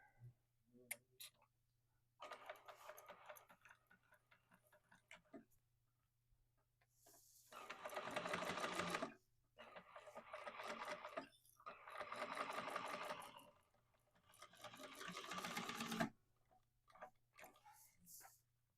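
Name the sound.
sewing machine stitching through layers of a sling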